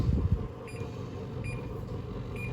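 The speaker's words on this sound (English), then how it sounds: "the timer just went off" A kitchen timer sounds a few short, faint beeps spaced about a second apart, heard over low room noise and a brief thump at the start.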